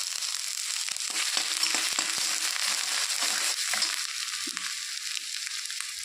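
Panch phoron seed spices and chopped ginger frying in hot oil give a loud, steady crackling sizzle with sharp pops scattered throughout.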